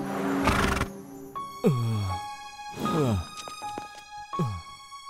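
A cartoon horse in a Telugu animated kids' show neighs several times, each loud, close whinny falling in pitch, with a heavy thud at the start and short gaps between calls.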